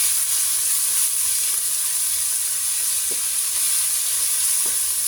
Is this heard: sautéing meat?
yes